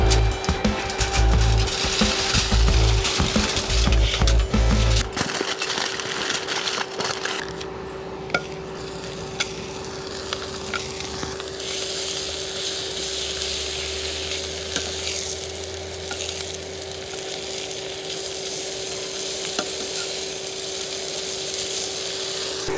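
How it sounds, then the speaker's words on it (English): An electric fan running outdoors at a hot truck campsite, a steady broadband whir throughout, with food sizzling on a pan and occasional clinks of cooking nearby. "Sorry for the fan noise"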